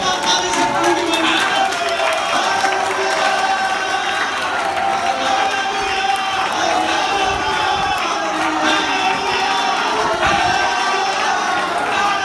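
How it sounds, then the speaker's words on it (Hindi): Large crowd at an India For Jesus worship crusade clapping and cheering, a loud, continuous roar of applause and shouting voices that stays steady for the whole stretch. "put your hands together for the living God"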